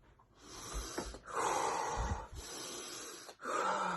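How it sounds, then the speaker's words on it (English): Slow, forceful breaths pushed out through the mouth as a breathing exercise, three long airy exhalations separated by short pauses, close and fairly loud with no talk. "expanding the chest and breathing out of your mouth, just made my paper fly"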